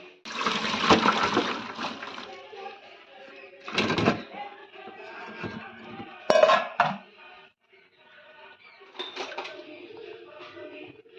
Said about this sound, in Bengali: এবার আমরা এটাকে ভালো করে জল ঝরিয়ে নেব।